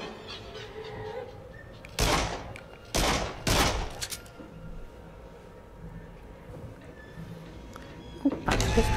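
Pistol gunfire in the VR shooter Until Dawn: Rush of Blood: several loud bursts of shots in quick clusters, then a final shot near the end, with faint game ambience between.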